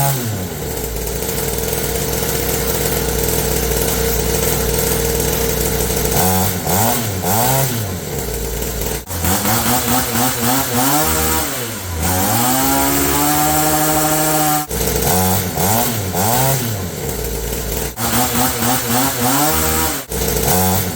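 A 50cc two-stroke pit bike engine, stock and then ported, revs hard and loud, a buzzing raspy drone rising and falling through repeated throttle blips and held high revs, alternating between the two versions.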